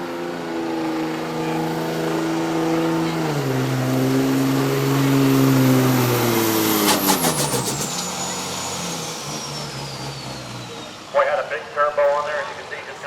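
A turbocharged diesel drag truck launches at a Diesel Powerfest truck shootout: a loud, rising engine drone, then a sharp high turbo whistle that slides steadily downward, with a crowd or announcer voice talking underneath.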